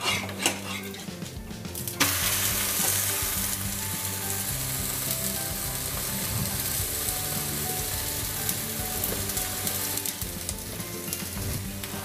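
Wheat-flour sweet pude pancake frying in oil on a pan, a steady bright sizzle throughout with an occasional soft clink or scrape of a utensil, close and fairly loud.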